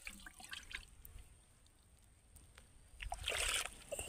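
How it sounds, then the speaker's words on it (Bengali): Water is scooped from a field drain with soft sloshing and dripping, then a louder splash near the end, faint and close with no voices. "এখন নালা থেকে পানি নিয়ে স্প্রে মেশিন ভরানোর পালা।"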